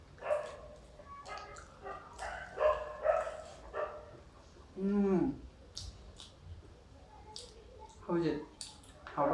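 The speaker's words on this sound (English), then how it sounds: "ignore the dog barkings. They are always hungry and barking all the time" Dogs barking at home during a meal of samosas, a few short sharp barks and yips scattered between people talking and eating, moderately close and intermittent.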